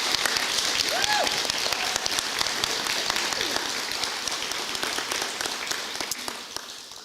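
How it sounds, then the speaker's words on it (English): An audience claps for educators at a state education awards ceremony, a fairly soft, sustained patter of many hands heard from some distance, thinning slightly toward the end. "Start with a round of applause for these folks"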